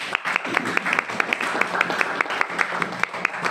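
A church congregation claps in a steady, rhythmic beat, loud and close, with a murmur of voices and cheering running underneath throughout.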